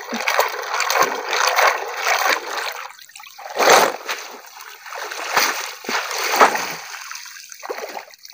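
Water splashes and trickles in irregular bursts as sea shells are rinsed in the sea, the sloshing close and moderately loud, with no talk.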